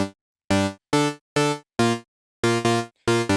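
Stacked Serum saw wave oscillators forming a bright buzzy synth chord for a Euro dance track, played as a series of short rhythmic stabs with gaps between them, loud and alone.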